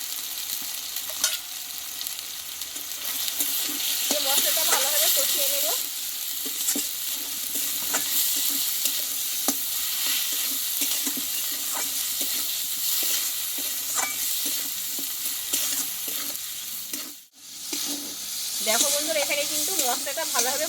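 Spices, turmeric, salt and melted tomato sauté in a pan for a Bengali soybean dish, giving a loud, continuous frying hiss with frequent stirring scrapes and one brief pause near the end.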